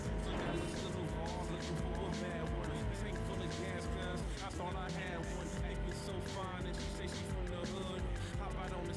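Tuned car racing in MTV Pimp My Ride Street Racing on PS2, its engine droning steadily with a faint tire squeal partway through, all layered under dense game music for the full stretch.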